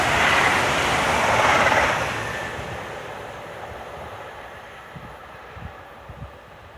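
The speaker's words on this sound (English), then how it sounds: "We've got another Avanti West Coast to London Euston." An Avanti West Coast train passes at Polesworth, a loud broad rushing roar at first that fades into a distant rumble with a few faint knocks toward the end.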